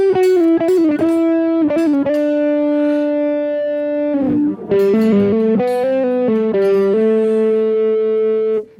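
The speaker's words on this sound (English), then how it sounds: "If I add the tube screamer to it," Electric guitar on the upper pickup driven through a Tube Screamer overdrive, played in an iPad looping improv setup: sustained, gritty notes ring out loud and alone, with a few quick picked notes and a chord change midway.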